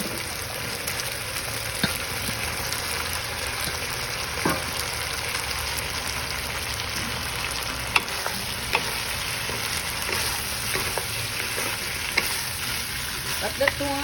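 Chicken and green beans sizzle steadily in a hot pan, a continuous crackling fry broken by occasional sharp clicks and scrapes of stirring.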